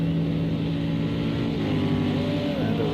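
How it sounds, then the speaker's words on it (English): A Corvette GTE race car crosses the line in Project CARS 2 at Indianapolis, a steady engine drone that rises into a short climbing whine near the end, heard at moderate distance. "That's one of the Corvettes coming over the line for GTE."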